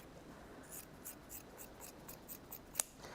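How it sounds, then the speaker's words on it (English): Scissors cutting quilting cotton fabric pieces, a series of soft rhythmic snips close by and faint, with one sharper click near the end. "So I'm just cutting those 4 pieces out quite roughly."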